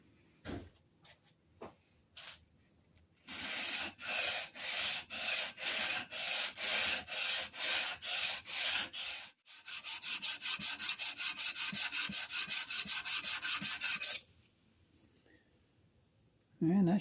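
A lever cap and chip breaker from a 1940s Sargent hand plane are lapped flat on an abrasive surface. Steady back-and-forth scraping strokes come close and loud, a slower run followed by a faster, denser run, with brief taps and a pause between.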